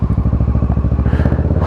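A Kawasaki Versys 650 motorcycle fitted with a Two Brothers exhaust idles loud and close, with a deep, rapid, even burble from its twin-cylinder engine and a slight rise in revs near the end.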